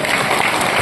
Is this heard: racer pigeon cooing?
no